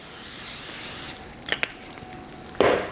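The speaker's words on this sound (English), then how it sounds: "Now, what we're going to do is spray once more" A long hiss of cooking oil spray, a couple of small clicks, then a second short spray burst, close up with no talking.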